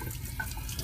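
Cold water runs from a tap, to be mixed with dental alginate for an impression tray: a brief, steady, close hiss of flowing water with faint splashing.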